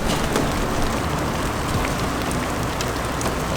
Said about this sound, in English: I like the sound of the raindrops